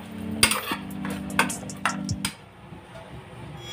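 Spoon stirring a chicken mandi marinade after lemon juice is added, a few sharp clinks and scrapes against the bowl over the first two seconds, then quieter faint stirring with a low hum underneath.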